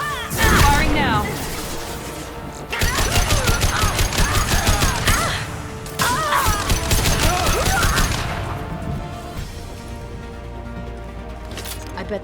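Rapid bursts of gunfire in the video game Mass Effect 2 rattle loudly in several long volleys, mixed with crashes and a voice speaking over the shooting.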